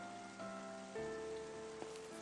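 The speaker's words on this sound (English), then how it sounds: "It's a terrible day for rain." Rain falls in the video game Final Fantasy XIII, a faint steady patter beneath sustained soundtrack tones, with no talking.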